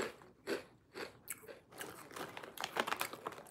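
Crunchy chewing of fried fish, close and crisp, in a series of irregular bites and crunches that grow denser toward the end.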